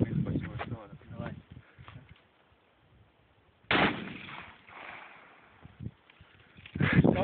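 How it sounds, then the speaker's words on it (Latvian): Shots fired outdoors at a glass bottle, with two sharp loud reports several seconds apart, and people talking before and between them. "Es tā šito sašāvu, un pudeli sašāvu."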